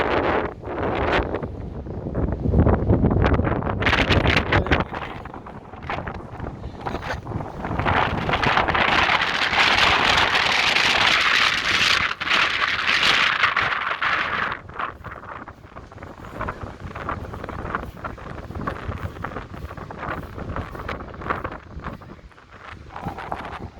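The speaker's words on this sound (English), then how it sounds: "it's so windy you may not be able to hear me" Strong gusting wind buffets the microphone on a street in downtown Chicago ahead of an approaching storm, a loud continuous roar that swells and eases in waves with rustling underneath and no talk.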